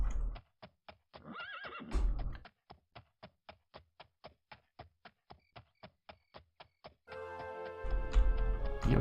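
A horse in the video game Daggerfall Unity neighs at the start and end, with an even run of sharp, evenly spaced hoofbeats ticking between the calls.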